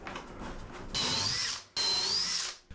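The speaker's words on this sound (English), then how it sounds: "I'm gonna have to put a couple of screws just to keep it secure. Galvanized, of course," A power drill drives galvanized screws into the wooden hull of a liveaboard boat in two loud, close, whining bursts of about half a second each, separated by a brief pause.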